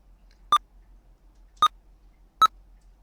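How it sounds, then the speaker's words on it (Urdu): A computer running Maktaba Shamila software beeps while it searches. Three short, clear beeps sound alone at roughly one-second intervals. "یہ بیپ کی آواز آپ کو آ رہی ہے نا"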